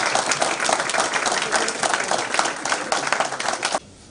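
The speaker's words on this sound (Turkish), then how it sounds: "Müteşekkis arkadaşlarımızı bir alkışlayalım." An audience claps in steady, dense applause for several seconds before it cuts off abruptly.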